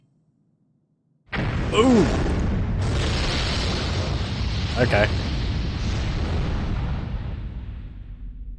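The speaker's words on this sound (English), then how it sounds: "Incendiary explosion." An incendiary explosion spell in Dungeon Keeper 2 erupts suddenly from silence into a loud, roaring blast with crackling flames that rumbles on for several seconds and slowly fades, while a player briefly exclaims over it.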